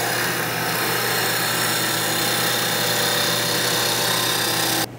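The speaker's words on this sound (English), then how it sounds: "do a couple more cuts just to show you a little bit more what the skew chisel" A wood lathe spins steadily while a skew chisel peels bark from the turning wood, a loud continuous whirring and hissing rush that holds even throughout before cutting off abruptly at the end.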